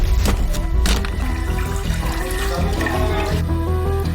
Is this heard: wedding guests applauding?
no